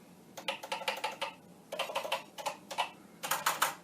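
Keys clack in quick bursts on a Commodore VIC-20 keyboard, several rapid runs of close, crisp taps separated by brief pauses in an otherwise quiet room.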